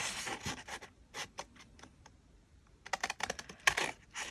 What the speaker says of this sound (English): we can just use regular scissors for that